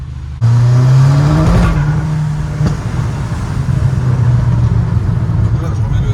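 Volkswagen Golf 5 GTI with a Stage 3 tuned engine revving hard up from idle, then holding a loud, steady drone before easing slightly, recorded up close with someone talking over it.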